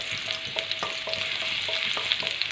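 Pieces of ginger frying in oil in a pan while a paneer curry is being made. A continuous crackling sizzle sits under regular light scraping strokes from a stirring spoon, all close up and without speech.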